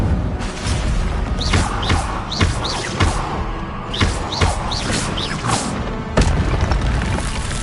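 Repeated spell casts in the Hogwarts Legacy video game, a run of sharp whooshing zaps and booming impacts in quick succession over a busy, loud background.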